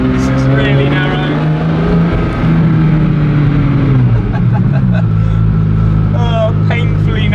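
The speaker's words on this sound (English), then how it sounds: "the lift system noise is odd" Odd mechanical whirring from a car's lift system, a steady low drone that dips in pitch around the middle and settles lower, with voices talking over it.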